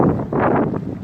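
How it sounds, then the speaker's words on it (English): Wind buffeting a microphone outdoors, loud low gusts swelling and easing over about a second, with no voices. "It's windy."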